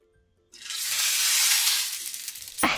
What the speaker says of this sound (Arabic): وحين نجهز زيت حار، اسمعوا الصوت وياي بنات، اسمعوا الصوت